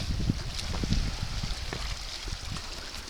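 Waves and gusty wind on the Baltic Sea shore at Nynäshamn in Sweden, a continuous rough wash of surf with wind buffeting the microphone, fairly close and steady.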